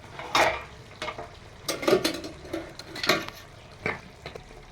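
Rice and curry get served from pots with metal utensils, giving several clattering scrapes and clinks in an uneven rhythm, close and moderately loud, with no talking.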